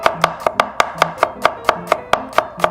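A knife chops garlic on a cutting board in quick, even strokes, about a dozen crisp close taps at a steady rhythm with no talking.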